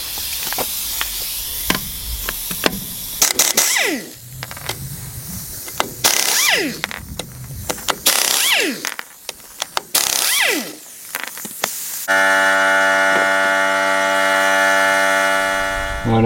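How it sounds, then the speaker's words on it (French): A pneumatic impact wrench connected to a compressor chatters and rattles in repeated short bursts amid clanking metal handling, close up in a workshop, ending in a steady tonal hum. "la clé à choc, c'est une pneumatique hein, qui se branche sur compresseur"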